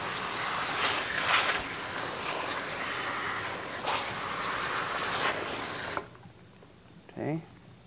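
Strong water spray rinses bleached blonde hair in a salon, a loud continuous hiss that cuts off abruptly near the end, followed by a brief voice.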